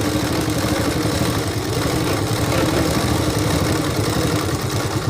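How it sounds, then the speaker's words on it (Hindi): An electric sewing machine runs steadily while stitching a shirt collar, giving a continuous close, loud mechanical whir with rapid rhythmic clatter and no pauses. "इधर साइड भी अब लगा लेते हैं सिलाई।"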